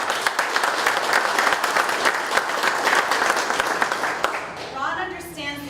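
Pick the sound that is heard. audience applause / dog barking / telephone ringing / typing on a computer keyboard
audience applause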